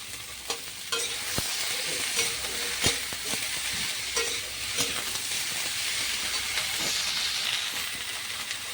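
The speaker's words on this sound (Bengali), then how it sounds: "আলুগুলো একটু নাড়া হয়ে গেছে, এবার বেগুন দিয়ে নাড়বো।" Eggplant and potatoes sizzle and hiss steadily in a frying pan for a dish of shukto, with sharp clacks of a spatula stirring through them at irregular intervals, close and fairly loud with no talking.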